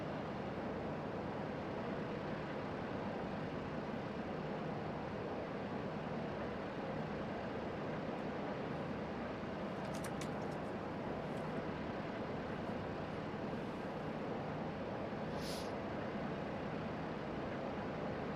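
A steady, droning engine roar builds from a Grumman Albatross HU-16E amphibian taking off from runway 20 in Microsoft Flight Simulator 2020, constant and loud with a few faint clicks.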